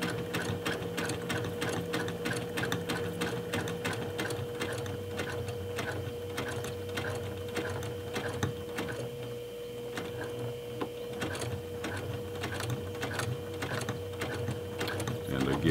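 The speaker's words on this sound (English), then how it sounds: "I'm pulling on this to get it nice and tight as I sew it" A sewing machine stitches the boxed corner of a fabric makeup bag, its needle chattering in fast, even close-up bursts with brief pauses, while a person talks quietly over it.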